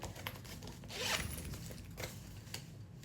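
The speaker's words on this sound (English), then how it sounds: "there's a little little zipper pocket in here" A small zipper pocket inside a bag is pulled open in one quick rasping run, close and fairly quiet, with light handling rustle before and after.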